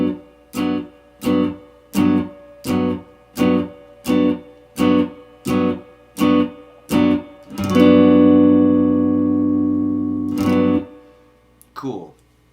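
Guitar comping major 7th chords on quarter notes: about a dozen short, evenly spaced chord stabs cut off crisply, then a chord left ringing before fading, with a final brief strum.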